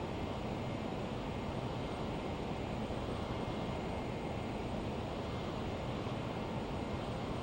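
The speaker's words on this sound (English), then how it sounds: "I'm going to go ahead and start decreasing my speed and decreasing the throttle at the same time." Steady broadband jet engine roar from a Flysimware LearJet 35A in a flight simulator as the throttle is pulled back to slow toward about 200 knots, a constant dense rumble filling the whole stretch with no talk.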